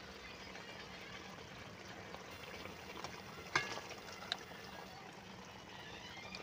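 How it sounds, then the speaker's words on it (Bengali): Boiled bottle gourd goes into a pan of frying chicken curry, bringing a low, steady sizzle and bubbling with a couple of sharp clinks of a utensil against the pan. "যে লাউগুলোকে সেদ্ধ করে রেখেছিলাম, তো এবার ওই লাউটাকে আমরা এখানে তুলে দিচ্ছি"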